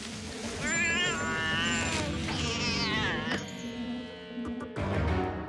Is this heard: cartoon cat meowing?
yes